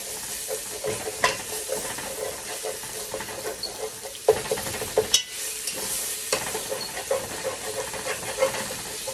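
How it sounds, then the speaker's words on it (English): Garlic and anchovy sautéing in hot chicken fat in a pan, a steady close sizzle with stirring and scraping, a few sharper knocks and pops breaking through the continuous hiss. "You see it sauteing in that chicken fat"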